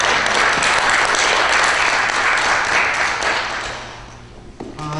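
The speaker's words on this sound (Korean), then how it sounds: "김남준 목사님께 다시 한번 뜨거운 박수 부탁드리겠습니다" An audience at an author's meeting applauds pastor Kim Nam-joon with loud, dense clapping that holds strong, then fades over the last second as a few scattered claps and a faint voice emerge.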